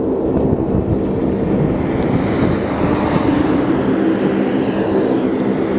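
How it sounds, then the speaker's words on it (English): A Lockheed C-130 Hercules taxiing at a military air exercise gives a steady, loud turboprop drone with a broad low rumble, continuous and unbroken throughout. "that's the Hercules just taxiing now"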